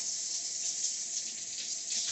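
Tap water runs steadily over a lobster being rinsed in a sink, a continuous close hiss of flowing water for a couple of seconds, with no voices.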